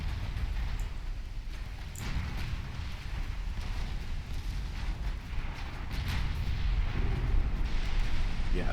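Torpedo hits explode against a warship in the naval game Ultimate Admiral Dreadnoughts, with deep rumbling blasts and a continuous roaring, crackling wash that swells louder toward the end. No one speaks.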